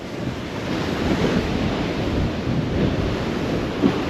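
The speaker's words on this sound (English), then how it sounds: "that's a big wave coming up" Storm waves crash against the sea wall at Dawlish in heavy weather, a continuous roaring surge of water with gusting wind buffeting the microphone, loud and close with no voices.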